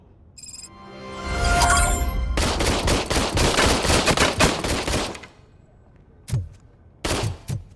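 Gunfire in the video game Robocop: Rogue City, a sustained loud burst of rapid automatic shots lasting a few seconds, followed by a quieter pause and two short clustered volleys.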